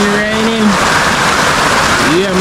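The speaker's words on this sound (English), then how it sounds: "raining." Rain falling on zinc roofing at a village homestead: a loud, dense, even hiss and patter close overhead, steady throughout, with a voice speaking over it at the start and end.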